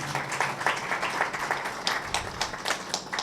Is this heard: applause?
yes